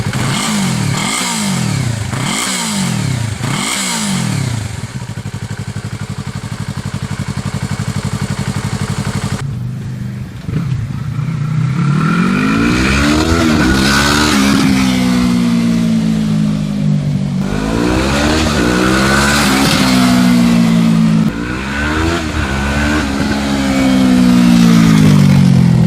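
A Yamaha R3 motorcycle with its muffler removed idles loudly and then revs repeatedly, each rev rising and falling in pitch over a constant rough engine drone, close and without talk.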